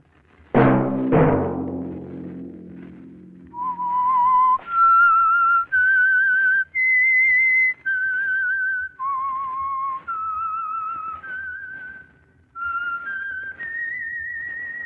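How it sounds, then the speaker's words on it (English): Whistled theme signal of The Whistler radio drama, a lone melodic whistle of about a dozen sustained notes that rise and fall, preceded by two loud deep struck chords, close and clear with no talking. "Let that whistle be your signal for the Whistler"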